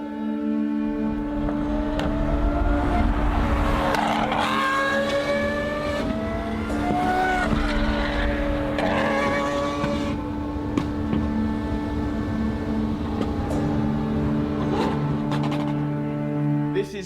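Lamborghini SVJ fitted with a full Valvetronic straight-pipe exhaust, blaring loud and close, revs rising and falling in repeated sweeps over a constant heavy drone.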